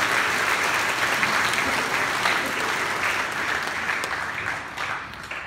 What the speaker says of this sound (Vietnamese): cho các em một tràng pháo tay